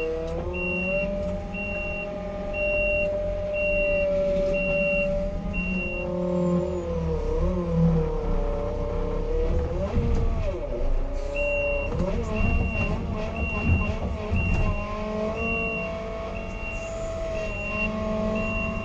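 A Merlo 42.7 telehandler drives with a steady, loud diesel engine drone and shifting revs, while a repeating reversing beep runs through much of the stretch; no talking.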